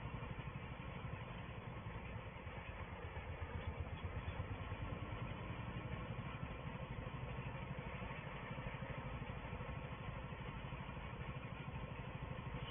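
A farm tractor engine in a farming video game runs at a steady low chug, a continuous close mechanical rumble with a faint clatter and no pauses.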